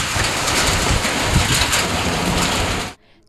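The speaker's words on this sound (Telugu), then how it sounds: "ఈదురుగాలులతో కూడిన భారీ వర్షం విరుచుకుపడుతోంది" Heavy rain driven by gusty winds during a storm forms a loud, dense, unbroken roar for about three seconds, then cuts off abruptly to near silence.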